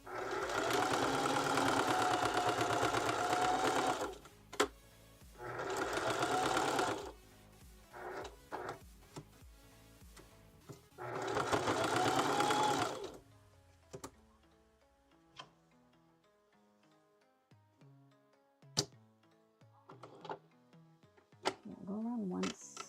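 A sewing machine running a zigzag stitch with blue thread, loud buzzing bursts in several stretches separated by pauses, then quieter ticks and clicks as the machine stops.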